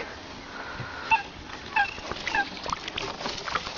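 Ducks call on Sarısu lake during a duck and coot hunt: a few short, nasal honking calls at about mid-distance, set against a steady outdoor background with no talking.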